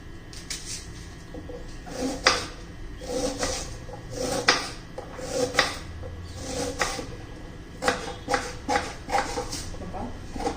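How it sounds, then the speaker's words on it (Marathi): A kitchen knife chops an onion on a board for sambar, giving irregular clusters of sharp taps with short pauses between bursts, close and moderately loud. "आता मी कांदा चिरून घेते"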